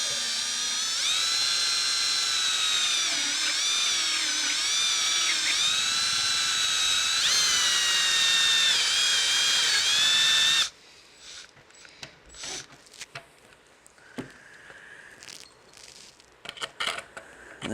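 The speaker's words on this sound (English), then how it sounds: "So we'll go ahead and start drilling" A step drill bit whines steadily and loudly for about ten seconds as it bores a 5/8 hole through a plastic fuel module for a 1998.5-on Dodge, then cuts off, leaving scattered quieter handling clatter.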